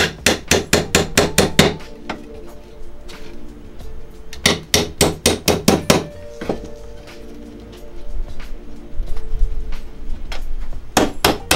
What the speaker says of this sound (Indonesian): Kita paku juga.